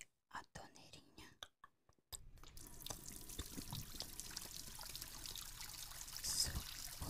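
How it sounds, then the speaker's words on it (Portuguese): Water runs from a small tap after a few soft close taps, a continuous gentle trickle and splash that holds steady, with faint whispering nearby. "Agora vou ligar aqui a torneirinha."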